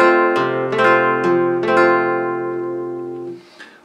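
Flamenco guitar plucks a downward arpeggio as a quick pull with the bass, several notes tumbling out in close succession, then ringing together as a sustained chord that fades, with no talk.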